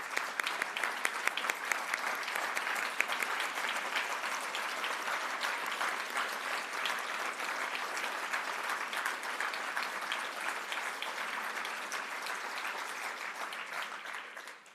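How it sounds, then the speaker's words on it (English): An audience at an awards ceremony in a hall gives the standing nominees a long, sustained round of applause, dense and even, fading only at the very end. "I would like to invite all of the nominees to please stand and be recognized with a round of applause."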